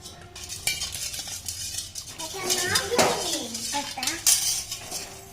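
A spoon clinks and scrapes against a bowl while paste is mixed for homemade pani puri, in short irregular strokes close by, with faint voices underneath.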